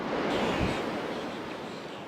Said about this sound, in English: A walk on the beach against the crash of the ocean is more than soothing for Megan Peebles